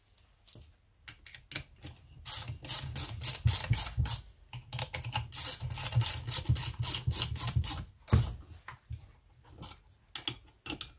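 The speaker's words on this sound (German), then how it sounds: "Muttern drauf, das Ganze noch einmal anziehen." A ratchet tightens nuts on a Stihl MS180 chainsaw in quick, crisp clicking bursts, with short pauses between runs of clicks, close up and with no talk.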